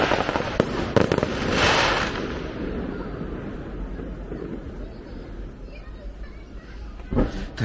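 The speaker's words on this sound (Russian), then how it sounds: "Пока не закончился фейерверк" Fireworks display at night in China, with sharp cracking bursts at the start and again near the end over a rumbling, crackling wash, heard amid crowd noise and voices.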